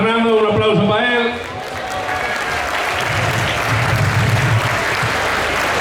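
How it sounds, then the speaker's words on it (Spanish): Festival crowd at a town fiesta pregón breaking into applause for a man named Fernando, rising after a voice speaks over a loudspeaker at the start, then building into sustained clapping with some chatter. "un aplauso para él"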